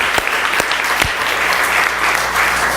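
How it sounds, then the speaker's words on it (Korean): A church congregation at a Korean church's 10th-anniversary thanksgiving service in Toronto applauds with loud, dense clapping. A few sharp claps stand out near the start, and a voice comes through faintly underneath. "박수 올려드립니다"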